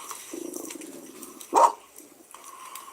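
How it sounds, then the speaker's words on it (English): A single short dog bark rings out over a faint background, followed by a brief hollow echo. "The moment she barks, there's an echo."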